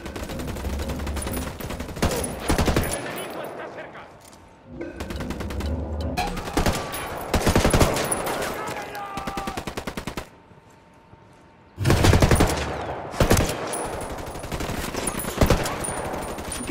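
Sustained automatic gunfire crackles in Ghost Recon Wildlands as rebels exchange fire, dense bursts rattling on and off with a brief lull before the shooting resumes loudly.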